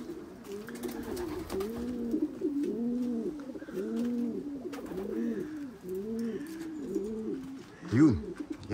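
Young racing pigeons coo steadily in a loft, a continuous overlapping series of soft rolling coos at close range, with faint background noise and a brief flutter near the end.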